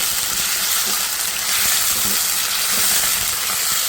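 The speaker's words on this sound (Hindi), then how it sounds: "सबसे पहले कढ़ाई में ऑयल डाल के उसके बाद मैं इसके अंदर डाल दूँगी चिकन" Chicken pieces, mostly boneless with a little on the bone, sear in hot oil with salt in a kadai for a chicken handi, giving a steady, dense sizzle and hiss that runs unbroken and fairly loud throughout.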